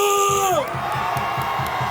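A crowd of people in their forties at an outdoor rally in Park Chung-hee Plaza, Dongdaegu Station, bursts into a loud whooping cheer. It comes right after a shouted call, and a steady pulsing beat runs under the noise.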